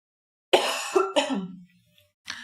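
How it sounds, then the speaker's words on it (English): A person coughs twice in quick succession at close range, followed by a fainter third cough after a short pause, with no speech. "Coffee definitely makes me cough."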